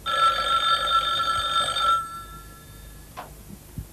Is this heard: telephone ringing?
yes